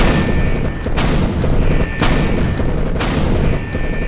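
Loud, heavy gunshots fired in a Roblox video game, sharp booming blasts at roughly one-second intervals over a constant rumbling background, with no one speaking.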